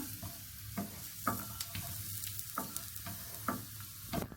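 Small coconut pieces fry in hot oil for kappa biryani, a soft continuous sizzle broken by sharp clinks and scrapes of a spoon stirring every second or so.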